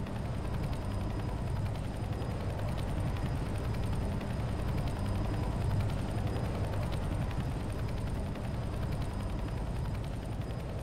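Helicopter in the video game Left 4 Dead 2, a steady, low rotor thrum and engine rumble that holds at an even level throughout, with no voices.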